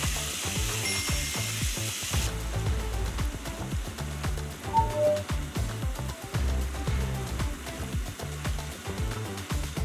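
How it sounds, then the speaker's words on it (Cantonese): Squid pieces deep-fry in hot oil for salt and pepper squid, the second fry done at a higher heat, giving a steady close sizzle and crackle throughout with scattered sharper pops. "將佢炸乾佢先"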